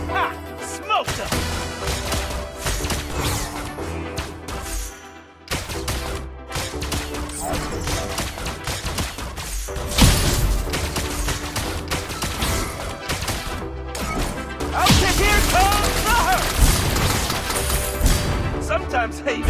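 Rapid video game gunfire mixed with cracks and impacts, continuous and loud throughout, with a character's voice lines breaking in over the shooting.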